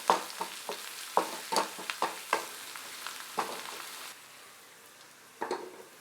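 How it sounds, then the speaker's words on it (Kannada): A tempering of curry leaves, coriander leaves and turmeric powder sizzles on low flame in a pan for khara pongal, with a quick series of sharp spoon scrapes and stirs that stop, then one more burst. "ಕರಿಬೇವಿನ ಸೊಪ್ಪು ಕೊತ್ತಂಬರಿ ಸೊಪ್ಪನ್ನೆಲ್ಲ 1 ನಿಮಿಷ ಲೋ ಫ್ಲೇಮಲ್ಲಿ ಹುರ್ಕೊಂಡ್ಮೇಲೆ ಈಗ ಇದಕ್ಕೆ 1/4 ಚಮಚ ಅರಿಶಿನ ಪುಡಿ ಹಾಕಿ"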